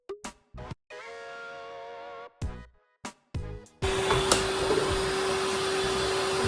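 A Rainbow vacuum cleaner working over carpeted stairs, switching on and off in short bursts with a droning whine, then running continuously with a loud steady roar and a high tonal whine.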